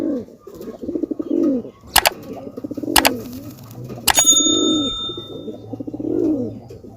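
At the Beldanga pigeon market in Murshidabad, pigeons coo repeatedly in soft, throaty, rolling bursts close by. Several sharp metallic clicks and a ringing tone cut through the cooing.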